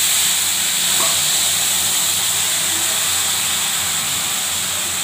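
Water poured into a hot pan of fish curry with ginger and chilli powder, producing a loud, steady, steamy hiss that holds throughout.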